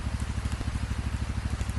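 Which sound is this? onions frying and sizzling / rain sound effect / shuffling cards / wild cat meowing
rain sound effect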